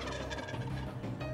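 A wild turkey gobbles during a Michigan spring hunt, a loud rapid rattling call filling the clip, close and continuous with no talk.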